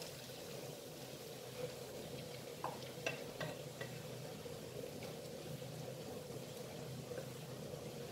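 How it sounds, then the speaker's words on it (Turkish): Grated carrots sauté in oil over softened pink onions for a two-colour vegetable soup, giving a quiet, steady sizzle. A few faint clicks and scrapes of stirring break through near the middle. "Şimdi biraz lezzetlensin diye yağda havucu da soteleyeceğim."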